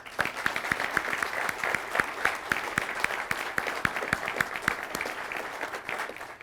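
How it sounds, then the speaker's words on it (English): A crowd at an Air Force base pilot training graduation applauds steadily, a broad sustained wash of many hands with a few sharper nearby claps standing out at an even pace. "let's give a round of applause"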